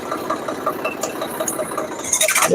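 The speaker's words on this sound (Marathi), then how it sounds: "असे खाली एवढ्याला ना आले ट्रॅक्टर फसत आहे" A tractor engine labours on a muddy farm track, a close, steady rhythmic chug with knocking pulses, rising slightly louder at the very end.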